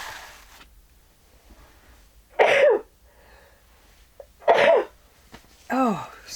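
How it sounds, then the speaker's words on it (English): Three sharp sneezes from a person standing close by, spaced a couple of seconds apart, each a loud abrupt burst in an otherwise quiet indoor room. "And I'm going to sneeze,"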